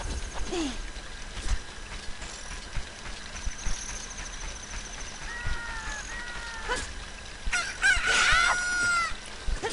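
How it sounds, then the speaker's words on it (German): In Zelda: Ocarina of Time, a chick hatches from an egg amid a busy game soundscape with scattered chirps, then a bright, loud rooster-like crow rises near the end. "Wow, du hast ein Ei ausgebrütet. Ein Küken ist geschlüpft."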